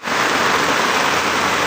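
Heavy rain pours down in Davao, a dense, steady roaring hiss of drops hitting surfaces, loud and close for a brief stretch with no voices.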